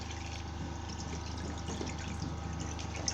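Coconut milk is poured through a sifter for a carrot cake, giving a steady, close trickle and splash of liquid running continuously through the mesh, with no pauses.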